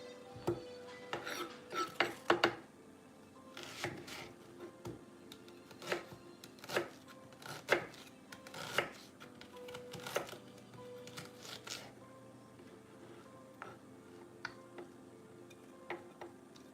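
A knife chops an onion on a cutting board while making Thanksgiving stuffing, producing scattered faint taps and clicks in irregular bursts with quiet pauses, fairly soft and close.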